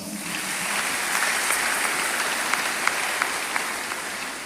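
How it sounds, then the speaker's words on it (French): A church congregation applauds in a steady, dense round of clapping that holds at an even level throughout, with a few sharper claps standing out and no speech over it. "Acclamons le Seigneur"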